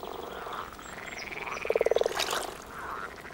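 Grass frogs croak in shallow water during spring breeding, a rapid pulsed burst of about eight close, loud croaks in the middle over a steady chorus of other frogs and a higher bird-like trill.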